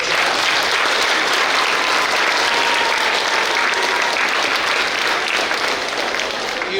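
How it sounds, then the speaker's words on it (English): Sixth-grade students at a graduation ceremony stand and applaud their parents, a loud, dense, steady roomful of clapping that holds evenly from start to finish with no voices breaking through. "Now applaud them."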